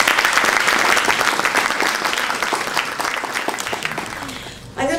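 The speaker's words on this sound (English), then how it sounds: "please give a warm applause to Maude Barlow" Loud, dense applause from a university lecture audience welcoming Maude Barlow, sustained for several seconds before gradually thinning and stopping abruptly at the end.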